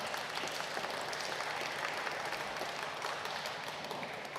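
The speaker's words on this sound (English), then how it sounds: "Round of applause for everyone who put this on." Steady audience applause at a poetry anthology launch night, a dense, even wash of many hands clapping that holds throughout without breaks or talk over it.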